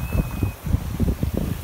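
A sailboat cruising downwind at about 5.5 knots in a lively breeze, with wind rushing across the microphone and rhythmic low swishes of water along the hull, close and fairly loud.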